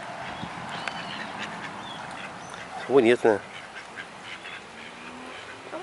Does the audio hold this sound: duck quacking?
yes